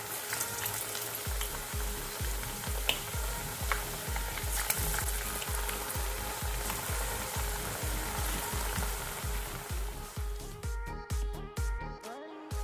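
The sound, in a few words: lentil vadas (parippu vada) frying in hot oil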